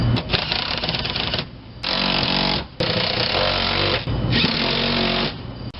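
Power tool driving seat bolts into the floor of a Ford Ranger during a bench-to-bucket seat swap, three loud sustained whirring bursts separated by short pauses, close and without speech.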